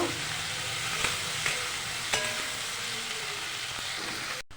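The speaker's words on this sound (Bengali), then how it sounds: "প্রথমে আলু ভেজে নিয়েছি, তারপরে পেঁয়াজ দিয়ে দিয়েছি তেলের মধ্যে। পেঁয়াজটাকে একটু ভেজে নেব।" Onions frying in oil after potatoes for a chicken curry, a continuous close sizzle with a few sharp stirring clicks of a utensil against the pan, no voices.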